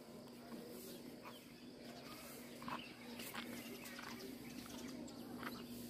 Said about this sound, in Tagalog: Daming ibon sa taas oh.